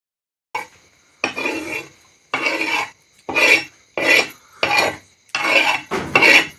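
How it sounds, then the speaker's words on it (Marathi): Roasted onion and coconut being ground into masala for a fish dish: seven or eight close, rhythmic rasping strokes in short bursts separated by brief pauses, with no talking. "आता सगळं वाटून घेते मी मसाला."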